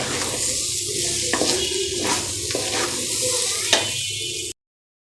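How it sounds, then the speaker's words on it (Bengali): Rice stirred and lightly fried in a pan for khichuri, a steady broadband sizzle with several soft scraping stir strokes, close and moderately loud, no talk, ending abruptly in silence. "এই যে একটু নেড়ে দিচ্ছি চালটা একটু ভাজা ভাজা করে"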